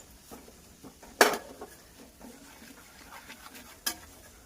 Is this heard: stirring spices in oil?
yes